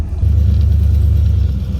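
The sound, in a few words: 1967 Lincoln Continental engine running on test drive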